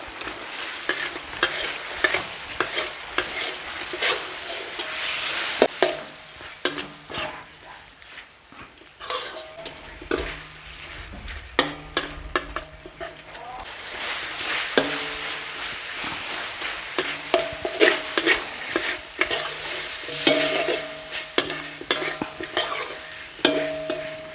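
Pork cartilage sizzles and fries in a hot pan while being stirred, with continuous crackling and repeated scraping of a utensil against the pan throughout, loud and close, with no talking.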